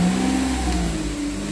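A Toyota Agya fitted with an iForce unit, its engine running under a light throttle blip, giving a steady, close mid-pitched hum and drone without talking.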